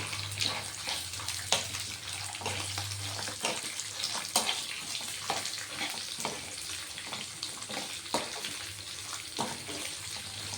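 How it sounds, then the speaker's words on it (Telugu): Chopped nalleru pieces fry in hot oil in a pan, a soft steady sizzle broken by small crackles and pops, fairly quiet and close, with no voices. "ఇవి కూడా మంచిగా ఫ్రై కావాలి"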